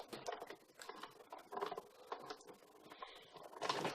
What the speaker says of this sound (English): run that through your big shot machine